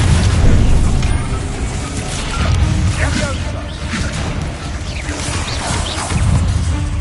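Booming spell blasts from the Bombarda curse in Hogwarts Legacy, a dense, loud rumble of repeated explosive bursts and crashing impacts sustained throughout, with voices mixed in among the din.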